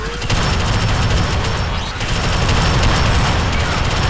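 Sustained heavy gunfire from a sci-fi top-down shooter, dense rapid automatic fire with booming impacts filling the whole stretch continuously at a loud, steady level.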